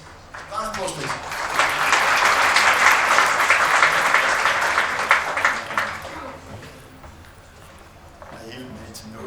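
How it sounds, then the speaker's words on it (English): A crowd breaks into loud, sustained applause that swells and holds for several seconds, then fades out as the room settles. "Round of applause, please."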